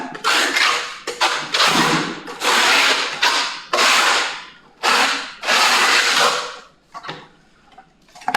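A trowel scratches cement-based tile adhesive onto the ridged back of a porcelain paving tile, a series of sharp, rasping scraping strokes in quick, uneven bursts with short pauses between them, close and fairly loud.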